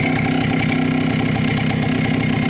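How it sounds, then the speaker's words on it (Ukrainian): A Minsk motorcycle engine runs steadily after a kick start, a loud, close, even mechanical idle with a rapid rhythmic beat throughout and no talking. "Раз копаєш і заводиться. Так працює ніби нічого."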